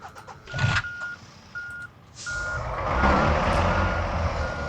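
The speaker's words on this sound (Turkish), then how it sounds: "Ha geri vites sesi geliyor." A truck's reversing alarm beeps three times in a steady rhythm over engine rumble, then the engine revs up louder and drones on; a DAF truck in the video game Truckers of Europe 3.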